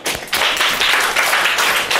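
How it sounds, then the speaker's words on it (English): Clapping in a classroom lesson as a student is applauded for spelling a word, a loud, close burst of hands clapping that starts after a short pause and continues steadily. "Give her a round of applause."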